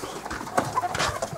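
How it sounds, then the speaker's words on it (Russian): Parrots in an aviary chirp and twitter in quick, overlapping short calls, fairly faint against a busy background. "Ладно, пойдем попугайчник посмотрим."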